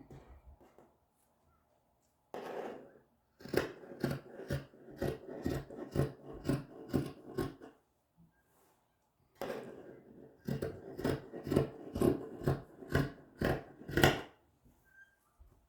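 Two bursts of rapid, rhythmic snipping, close and fairly loud, of scissors cutting through fabric, separated by a short quiet pause.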